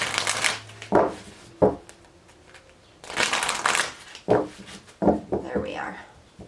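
Archangel oracle cards being shuffled up close in several riffling bursts, with soft knocks and a voice talking between them.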